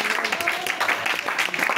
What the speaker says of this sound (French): C'est votre acclamation du Seigneur qui est là.